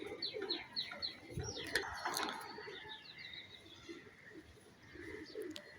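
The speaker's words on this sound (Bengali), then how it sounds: "আসলাম কবুতর ছাড়বো" Pigeons cooing from a rooftop on a foggy morning, repeated soft rhythmic coos close by with brief chirps and a wing flutter, over quiet background ambience.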